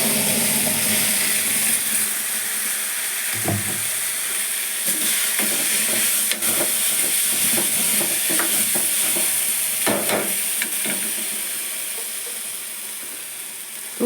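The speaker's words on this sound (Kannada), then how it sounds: "ಈರುಳ್ಳಿ ಬೆಂದಿದೆ. ಖಾರ ಹಾಕ್ತಾಯಿದ್ದೀನಿ." Onions frying with chili powder in a pan, a steady loud sizzle with a few scraping clatters of a spoon stirring the mixture at intervals.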